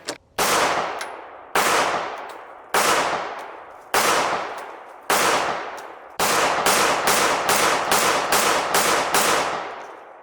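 Alpha Foxtrot Romulus DS 1911 pistol firing at the range: five loud, spaced single shots with ringing decay, then a quick string of about eight rapid shots, close and with no talking.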